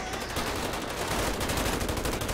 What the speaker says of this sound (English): That was a lot of crossfire